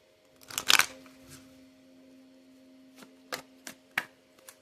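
Cards are riffled in a quick burst, followed by a few soft, scattered taps and flicks as the deck is handled, close by and quiet otherwise.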